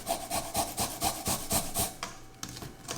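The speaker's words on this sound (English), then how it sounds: "in this case I'm going to use my microplaner to grate finely" Garlic cloves, four in all, grated finely on a microplane, giving rhythmic scraping strokes, about eight even rasps close up, then a brief pause before scraping resumes.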